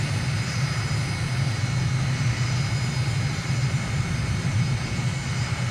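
An aircraft engine droning steadily at idle on landing approach with flaps and gear down, a continuous low propeller hum filling the cabin in a flight simulator.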